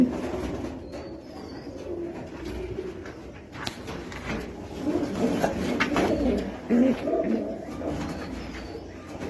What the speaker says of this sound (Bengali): জোড়া জোড়া কবুতর আছে।